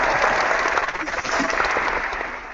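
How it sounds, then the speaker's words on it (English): Studio audience applause on a podcast-style show, dense continuous clapping that swells and holds, close and loud, tapering slightly at the end. "Round of applause."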